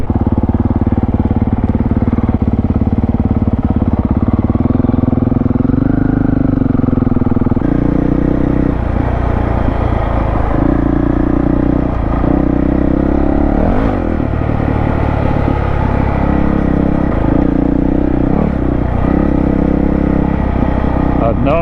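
Honda CRF dual-sport motorcycle ridden along an off-road trail, its engine droning steadily and close throughout, with throttle roll-ons and surging revs as it climbs over obstacles, and wind and rattle layered on top.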